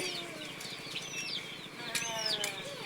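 Chickens kept in a cage cluck and cheep softly at close range in a steady, overlapping chorus, with a few higher peeping calls rising above the low murmur.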